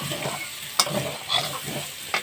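Dried chili frying in a chicken curry pan, a continuous sizzle broken by sharp scraping strokes of stirring, one loud clack early and another near the end, no voices.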